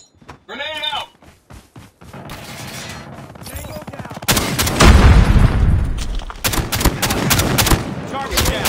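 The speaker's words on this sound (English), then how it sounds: "Grenade out!" Grenade and gunfire in Call of Duty Mobile's Frontline mode, a heavy loud blast with rapid weapon fire rattling on after it, while a voice shouts a callout just before.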